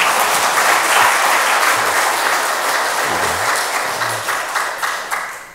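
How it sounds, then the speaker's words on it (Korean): A church congregation applauds during a service after a denominational general assembly declaration is read: dense, steady clapping from many hands that gradually thins and fades toward the end. "이렇게 읽으면 이제 박수를 치거든요"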